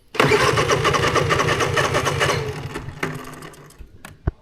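A Honda EU3000is generator mounted with a horse trailer cranks and fires into a rapid, loud mechanical chatter for about two and a half seconds, then dies away, followed by a few sharp clicks and a knock.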